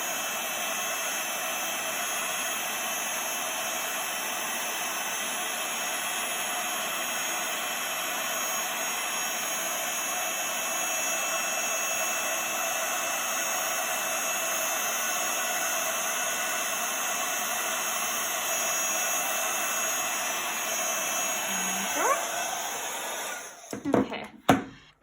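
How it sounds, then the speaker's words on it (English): A heat gun runs with a steady, loud blowing roar and high whine while it melts embossing powder on a card, holding constant for over twenty seconds before a few clicks and handling noises at the end. "just waiting for that powder to melt and change and moving that heat gun across the image"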